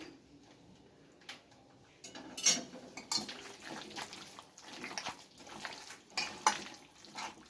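Hot oil left from frying onions is poured into a cooking pan, with faint sizzles, clinks of metal utensils and scattered light ticks and scrapes, quiet and close with no talk.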